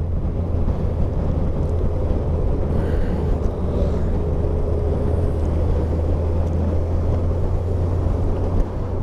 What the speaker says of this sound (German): Da kann man schon mal noch mit dem Motorrad durch die Gegend ballern.